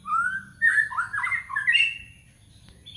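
A white-rumped shama sings close by, a loud run of rich whistled phrases and squawky chirps in quick succession, then tapering off into quieter notes against a faint low background hum.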